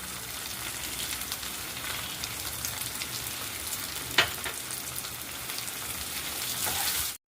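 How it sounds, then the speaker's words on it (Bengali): Chopped tomatoes with salt fry in a pan for a tadka, giving a steady, close sizzle with light crackles and one brief sharper pop, with no talking. "এই টমেটো কুচিগুলো এবার দিয়ে দিলাম। আর টমেটো কুচি দেওয়ার সাথে সাথে আমি এই নুনটা দিয়ে দিচ্ছি।"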